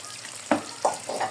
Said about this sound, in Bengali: মাছগুলো আমি এখন ফ্রাই করে নিতেছি